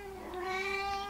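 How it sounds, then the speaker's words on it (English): A pet cat gives a single drawn-out meow, fairly soft and close, rising slightly in the middle. "that is my cat. He is super rude."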